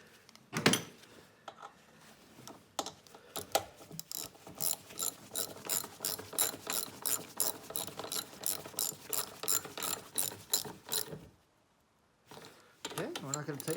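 Steady, rhythmic ratchet clicks tighten a nut on the carburetor of a 1968 Ski-Doo Super Alpine 370, close and crisp, running for several seconds before stopping and then resuming briefly.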